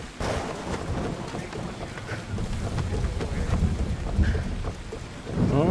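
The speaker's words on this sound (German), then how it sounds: "Oh, Gewitter." Dense rain hisses steadily with low rumbling thunder rolling beneath it during a storm at sea in Assassin's Creed Odyssey, continuous and loud with no talk.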